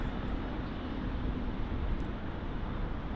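United Airlines Boeing 777-300ER jet taxiing out toward runway 08 left at Munich Airport, Germany, a steady, moderately loud broadband engine roar and rumble that holds even throughout, with no speech.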